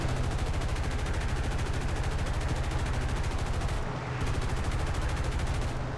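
Rapid aircraft gunfire aimed at a Wellington bomber in War Thunder, a loud continuous stream of fast repeated shots with a brief break near the end, steady and dense over engine roar.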